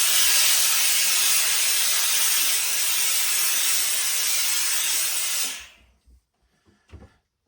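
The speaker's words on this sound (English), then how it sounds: "put a little drop more steam on here" Steam hisses loudly and steadily for about five seconds while a Lock & Co felt trilby hat is reshaped, then cuts off, leaving a few faint knocks and handling sounds.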